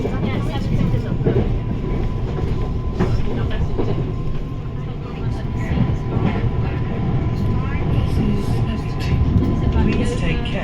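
A Merseyrail train runs on the rails between Birkenhead Central and Hooton, a steady loud interior rumble with rhythmic clatter of wheels over the track throughout, with faint voices in the background.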